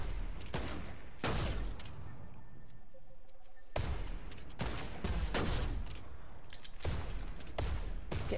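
Repeated bursts of gunfire in the video game Fortnite, loud, sharp volleys spread across the stretch with short quiet gaps between them.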